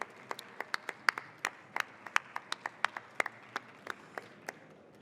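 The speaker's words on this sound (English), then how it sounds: "I want your applause because she deserves it" Sparse, scattered hand claps from a small audience at the closing of a travel forum, applauding a woman named Laurie: distinct individual claps in an uneven rhythm, fairly close, with no talking.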